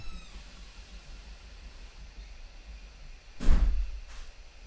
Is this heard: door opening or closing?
yes